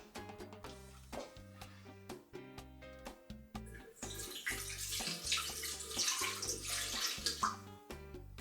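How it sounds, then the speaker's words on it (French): Water, 150 grams, poured into a Thermomix TM6 bowl in a kitchen: a steady splashing pour that builds and grows brighter halfway through, heard over low background music. "on va mettre 150 grammes d'eau"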